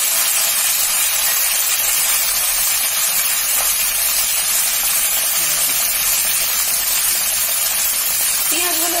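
Pointed gourd and potato pieces fry in hot oil with five-spice seeds in a pan, a loud, dense, continuous sizzle and hiss that runs unbroken throughout.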